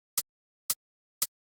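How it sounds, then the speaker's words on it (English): Three short, crisp hi-hat hits from an electronic drum track, evenly spaced about half a second apart, bright and isolated with silence between them. "The first one is a hi-hat."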